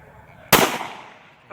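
A single sharp gunshot cracks out loud and close as a shot is aimed at a red Black Ops can outdoors in Georgia, its blast ringing off and decaying over about a second before another sound begins.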